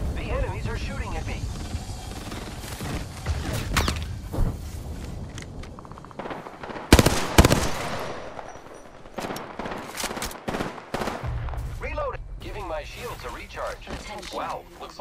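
Gunfire in Apex Legends, bursts of rapid shots scattered through the battle with one loud sharp cluster midway, mixed with game sounds and frequent in-game voice callouts.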